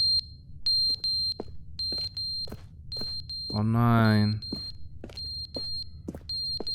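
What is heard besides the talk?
smoke detector low-battery beeping in The Stanley Parable video game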